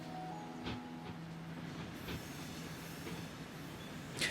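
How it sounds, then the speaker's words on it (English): Train rolling along tracks in a transport management video game set in Yorkshire, a steady rumbling run with occasional clacks and a brief hiss near the end, heard alone without talking. "I'm going to sit and watch this train a little bit"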